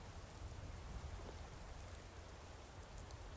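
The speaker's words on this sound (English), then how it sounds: "I hear it right now through the droppings of the rain, the roaring of the river beside us, and the winds across the mountains." Rain, a roaring river and mountain wind in the video game Skyrim blend into a steady, faint wash of noise with a low rumble beneath, continuous and even, with no voices.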